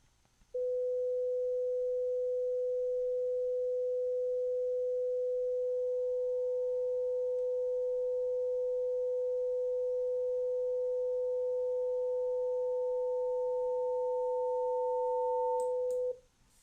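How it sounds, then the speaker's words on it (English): A steady pure sine tone holds throughout, and a second, higher tone fades in partway and continues alongside it, both clean and electronic, in a masking demonstration. "When the second tone breaks it, you will be able to hear the two distinct tones."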